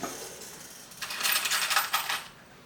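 Small metal zipper-pull hardware being fitted onto a handmade bag gives a brief cluster of light, bright metallic jingles and clinks, close and quiet, with no talking.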